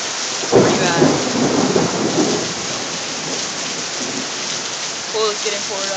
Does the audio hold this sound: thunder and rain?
yes